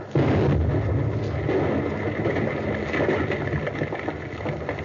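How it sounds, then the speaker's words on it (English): A loud explosion at a jungle fort booms suddenly near the start, then a long rumbling roar that slowly fades, heard without voices. "They have no guns large enough to create an explosion that loud."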